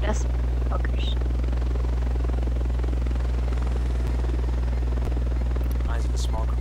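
A helicopter in the video game Ghost Recon Wildlands gives a steady, loud droning rotor and engine hum throughout, with voices and brief game effects over it.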